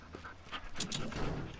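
A dog in the Teardown video game pants quickly and faintly, with a soft whimper-like breathy rhythm heard alone.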